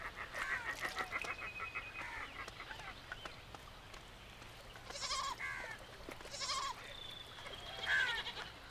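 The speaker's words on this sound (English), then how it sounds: "Other animals, such as feral goats, also come here to drink." Feral goats bleat repeatedly beside a flooded river, several drawn-out calls rising over a steady outdoor background at moderate distance, with a faint high whistle-like call near the end.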